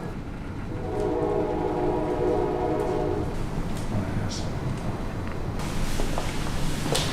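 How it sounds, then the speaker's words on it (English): A train rumbles past steadily, with a long horn blast early on and a continuous low roar and rattle filling the whole stretch. "Can you hear the train outside?"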